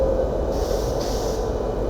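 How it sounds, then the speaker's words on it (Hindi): Patna Tejas Rajdhani Express, in Amrit Bharat livery, pulling away from a station in heavy rain, giving a steady loud low rumble of rolling wheels and coaches close by, continuous throughout. "ये निकल गई यहाँ से पटना तेजस राजधानी एक्सप्रेस"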